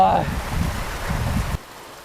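Rainstorm at a campsite near a pavilion: steady hiss of heavy rain and gusting wind that suddenly drops away near the end, with some talking mixed in.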